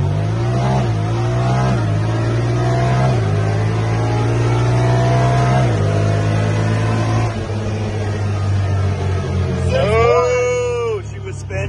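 A Pioneer 1000 side-by-side accelerates with its wheels spinning, the loud engine droning close by and rising in pitch through repeated surges; voices exclaim toward the end.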